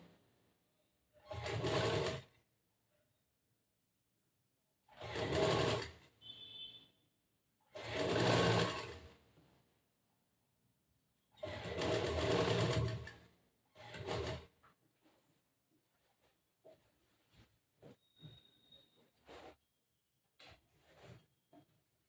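A sewing machine stitches a quarter-inch strip of fabric in five bursts of whirring, separated by pauses filled with faint handling clicks and rustles; no one speaks.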